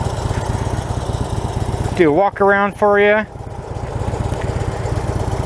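A black and red 2016 Harley Lowrider motorcycle with a 103 cubic inch engine idles with a steady, low, loping rumble while someone speaks briefly over it.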